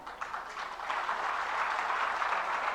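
An audience at a Jain religious discourse in Agra bursts into sustained applause, a steady wash of many hands clapping that grows slightly fuller and continues throughout.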